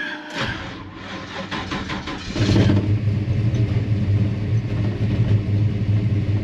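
An engine fitted with two Edelbrock VRS-4150 carburetors on a tunnel ram intake rumbles steadily, then swells into a louder, deeper, sustained roar after a brief burst of revving, heard close with no talking.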